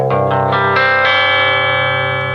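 Distorted electric guitar tuned to drop C strummed a few times, the chords ringing out and slowly fading.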